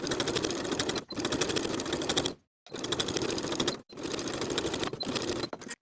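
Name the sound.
sewing machine edge stitching seam allowances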